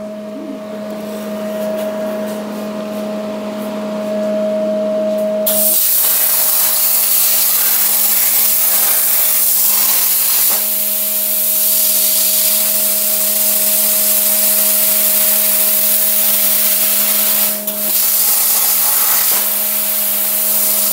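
An Arcdroid plasma cutter traces a shape, a loud continuous hiss and roar joining the steady hum of a running air compressor, with a short pause partway through.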